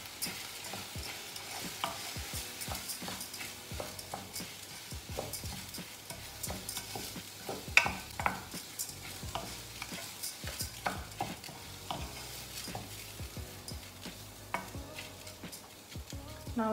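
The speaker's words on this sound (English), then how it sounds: "I'm gonna just add this in just to toast the rice" Risotto rice toasting in a pan: a soft, continuous sizzle broken by frequent scraping and clicking from stirring, fairly close and with no voices.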